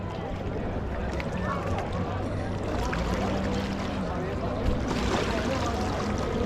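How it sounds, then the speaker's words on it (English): Steady broadband rush of water with a low engine drone, continuous and fairly loud throughout, from a ski race boat with an outboard motor moving fast on the Colorado River. "Pretty cool first time seeing a ski race boat."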